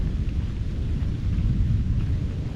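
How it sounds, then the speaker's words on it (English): Low, continuous rumbling thunder rolls through steady rain during a hike, dense and unbroken, with no voices. "you can probably hear the thunder"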